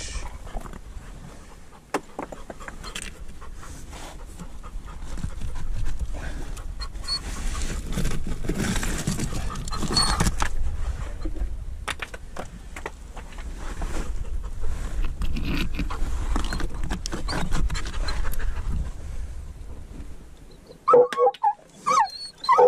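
A dachshund or treeing walker coonhound on a mink hunt outdoors, with rustling, panting and whimpering movement close by for most of the stretch and a few sharp yelps near the end.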